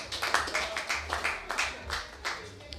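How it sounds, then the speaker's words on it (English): Town hall audience gives a round of rhythmic hand clapping, close and moderately loud, a short burst of claps fading over a few seconds, with a voice faintly present underneath. "Give Turtle a round of applause on that point."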